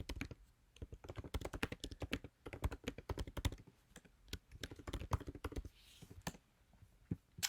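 Fingers type quickly on a computer keyboard, producing dense bursts of light, close clicking keystrokes with brief pauses, quiet and with no voices.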